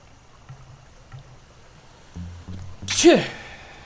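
A single sharp sneeze bursts out loudly near the end, up close, after some quiet low game or background sounds.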